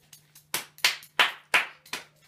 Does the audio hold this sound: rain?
no